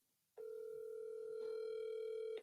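A steady telephone dial tone sounds while a call is placed to someone's phone, starting abruptly after a brief quiet moment and holding as one continuous, loud, unbroken tone.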